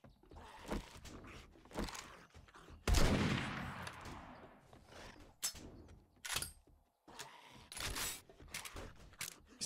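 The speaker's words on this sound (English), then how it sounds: "These pipe shotguns are horrible." Pipe shotgun blasts in 7 Days to Die (Alpha 20), several loud, separate booming shots spread across the stretch, the heaviest one roughly a third of the way in, with clicks and clatter between them.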